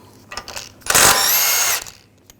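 A power tool spinning a 21mm socket to remove an axle nut on a 2009-2010 BMW 535i xDrive during a CV axle replacement, a few short taps, then a loud steady whir for nearly a second before it cuts off.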